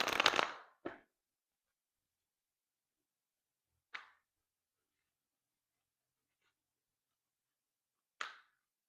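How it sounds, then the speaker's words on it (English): Tarot cards being shuffled by hand: a longer rustling riffle at the start, then a few short, close papery bursts separated by long stretches of silence. "we'll shuffle the tarot just for the good of the cause"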